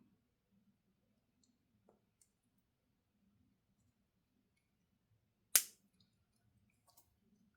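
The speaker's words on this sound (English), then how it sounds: "Such a satisfying snapping sound." Plastic Blokees Transformers Defenders toy pieces snap together in a single sharp, crisp click that stands alone against near silence.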